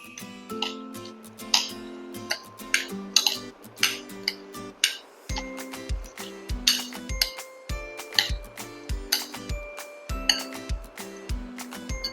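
A spoon mixing sabudana bhel in a bowl, with pomegranate seeds and coriander, gives quick, repeated clinks and taps in an uneven rhythm, close and clear, over a steady tonal backing.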